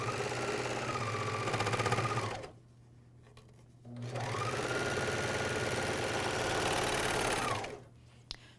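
A MyLock 454D serger stitches the crotch seam of pajama bottoms, whirring loudly and steadily for about two seconds, pausing briefly, then running again in a longer even burst before stopping.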